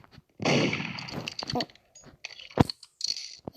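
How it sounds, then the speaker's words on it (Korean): A few sharp gunshot bursts crack out close by in the Roblox game Murder Mystery 2, a heavy one early and a quicker pop later, with short quiet gaps between. "거기서 총소리가 나"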